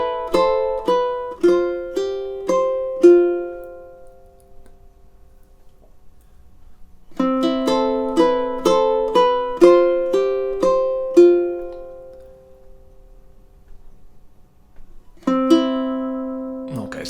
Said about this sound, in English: So the whole intro, if we play all of it, will sound like this.